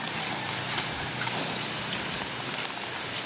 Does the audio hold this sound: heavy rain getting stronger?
yes